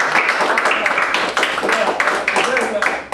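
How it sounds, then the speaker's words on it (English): An audience claps for a presenter named Robert at a business tax seminar, a dense, close burst of hand clapping lasting a few seconds, mixed with some voices. "let's give a round of applause for Robert"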